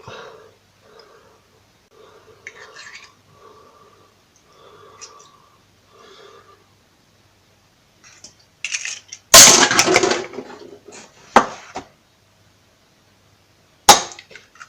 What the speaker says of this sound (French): Il faut savoir les casser les œufs